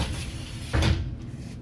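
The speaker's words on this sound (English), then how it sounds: "now your doors slide freely" Sliding glass door on a 2020 Keystone Avalanche 366 MB travel trailer rolls open with a short rumbling slide and a soft bump near the end, close and without talk.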